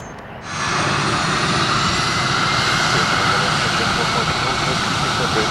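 At Spirit of St. Louis Airport, an airplane's engine surges from quiet to a loud, sustained roar on runway 26 left and holds steady and near as the takeoff run builds, with a voice under it.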